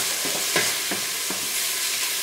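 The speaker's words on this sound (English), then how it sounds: "Stir it around a bit." Spaghetti ingredients fry in oil in a pan as they are stirred around, with a constant close sizzle and several quick scraping strokes.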